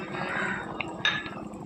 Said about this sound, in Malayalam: വേവിച്ച് വെച്ചിരുന്ന കക്കയിറച്ചി ഇതിലേക്ക് ചേർത്ത് കൊടുക്കാം